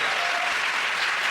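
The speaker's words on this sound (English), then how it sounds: "that round of applause going to Russell, Joe and Andy" A studio audience at a British panel comedy show breaks into loud, sustained applause, a dense, steady wash of clapping with no voices over it.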